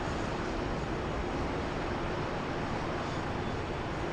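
An airplane landing on runway 13 right at Dallas Love Field, a steady loud broadband roar of jet engine and rushing air that holds constant throughout, with no voices.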